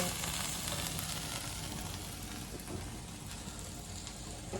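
Ground spices with turmeric sizzle and crackle steadily in a pan for okra mappas, a dense continuous frying hiss with faint scraping, no voices.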